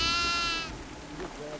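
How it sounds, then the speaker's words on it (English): A goat in a video game lets out one loud, drawn-out bleat that wavers and then trails off. Faint voices follow in the background. "Oh there's a goat! Goat! Goat!"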